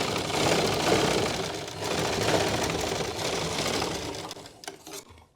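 A sewing machine stitches zigzag on folded cloth, a fast, continuous mechanical rattle that runs close and steady for several seconds before slowing and stopping with a few last clicks.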